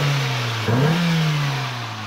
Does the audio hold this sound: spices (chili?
no